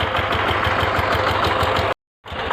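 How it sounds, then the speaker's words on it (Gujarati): Farm tractor engine idling up close, a loud, even chugging pulse that runs steadily, breaks off briefly into silence, then resumes. "તમે જોઈ શકો છો ટ્રેક્ટર અહીં પડ્યું છે."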